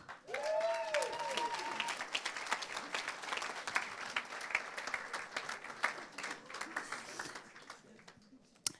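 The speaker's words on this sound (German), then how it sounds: "Kann man ihnen einen Applaus geben?" A church congregation applauds a crowd of teenagers, the clapping swelling fast and holding strong before tapering off, with a voice or two rising briefly at the start.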